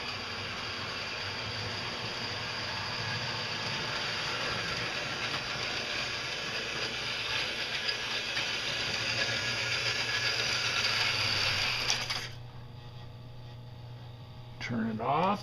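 A Rich Art tin-plate O-gauge toy train motor whirs and rattles steadily at close range, then cuts off abruptly near the end, followed by brief clicks.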